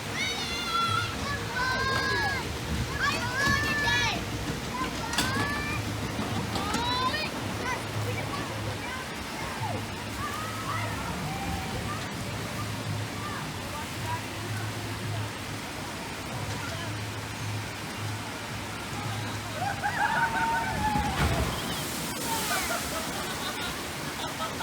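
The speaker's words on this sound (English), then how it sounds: "Just did the log flume." Water rushes and splashes around a log flume ride at Dutch Wonderland amusement park, a continuous roar of churning water, with distant voices and excited cries mixed in.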